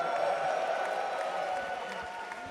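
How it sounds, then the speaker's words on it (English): A large arena crowd at The International 2025 Dota 2 esports event cheers and applauds in a steady, dense roar that fades slightly toward the end. "now you guys are cheering because I tell you to"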